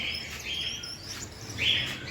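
Sharp, high-pitched sun conure chirps and short squawks, a few bursts spread over two seconds, close by with no talking.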